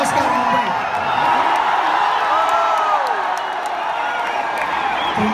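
Loud stadium crowd at Wankhede in Mumbai cheering and whooping at an IPL 8 winning celebration, a dense continuous roar with scattered whistles and claps, steady throughout.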